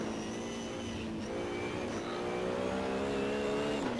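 A race car drifts in the Assetto Corsa racing game, its engine a loud continuous drone with rising and shifting tones, sliding and revving steadily close up throughout.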